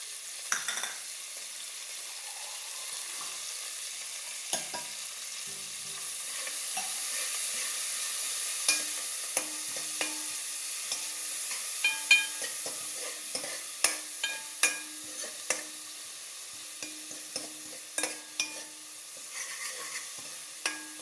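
Curry leaves and chopped coriander stirred into hot tempering for spinach dal sizzle and crackle steadily, with a rising series of sharp spatula taps against the pan, near and clear.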